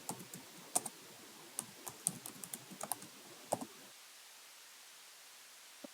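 Fingers type on a computer keyboard in a fast run of crisp, close key clicks for about four seconds, then stop into a faint background hiss.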